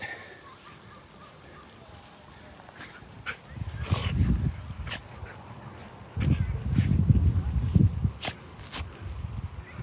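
A dog squirms and rolls about in grass with rustling bursts and soft thumps of movement, broken by faint whimpers and small yips, fairly close and with no talking.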